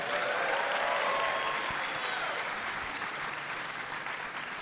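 A convention panel audience applauds for a Power Rangers anniversary panel, a steady, dense wash of clapping that holds at even loudness and tapers slightly toward the end.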